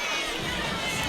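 A large crowd cheers and shouts loudly at a college gymnastics meet between Oregon State and LSU, a brief sustained roar of many voices filling an arena.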